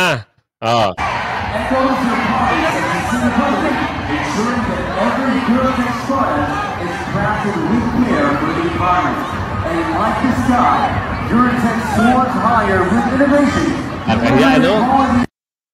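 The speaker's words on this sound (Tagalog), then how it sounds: "In-acknowledge si Risa Hontiveros ng announcer, tapos yung crowd, sumigaw-sigaw ng Duterte." A large crowd at the Sinulog event in Cebu shouts and cheers "Duterte" in a loud, continuous roar of many voices that carries on for the whole stretch, with scattered whoops rising above the mass.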